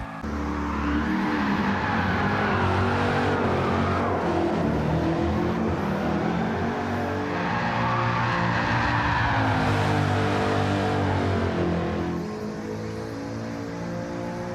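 Chevrolet Chevelle SS muscle car lapping the Kyoto Driving Park circuit in Gran Turismo 7, its loud engine droning steadily throughout with rising and falling revs and brief tire squeal, easing slightly near the end.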